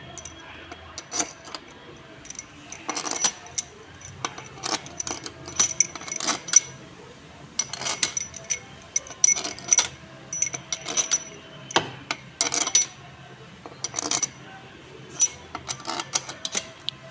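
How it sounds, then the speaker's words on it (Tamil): Metallic clinks and taps of a wrench tightening cylinder head bolts on a Tata Vista engine, in irregular bursts of sharp close-up strikes with short pauses between. "இப்போ போல்டு போட்டு டைட் பண்ணிக்கலாம்."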